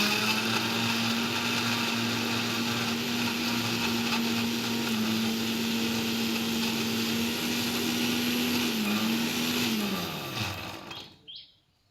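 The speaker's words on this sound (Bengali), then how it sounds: "সব কিছু দিয়ে ভালোভাবে মিক্সারে মশলাটা ব্লেন্ড করে নেব" A mixer grinder blends a spice paste of ginger and chopped tomato, whirring loudly and steadily up close for about ten seconds with a high motor whine before spinning down and stopping.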